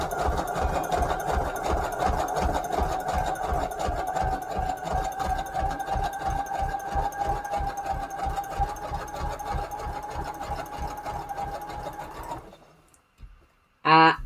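A sewing machine stitches through cardstock in a long, steady run with a distinct rhythmic knocking of the needle punching through, loud and close, before stopping near the end with a brief thump afterward.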